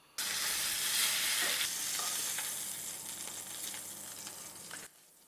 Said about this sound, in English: I have a cast iron pan with some butter, and I'm just going to sear my pork tenderloin